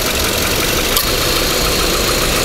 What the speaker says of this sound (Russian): Двигатель шепчет, работает как часики.